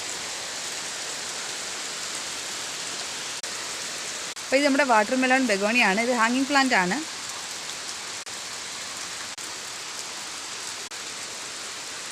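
Heavy rain pours on a home garden of hanging begonias and other potted plants, a constant loud hiss throughout, with a person speaking briefly over it near the middle.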